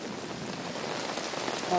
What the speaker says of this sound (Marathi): विजेच्या कडकडाटासह पावसाला सुरुवात झालेली आहे